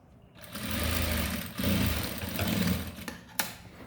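A sewing machine runs steadily for about three seconds, stitching a blouse during joining and finishing, with a dense mechanical whir close by that stops abruptly near the end.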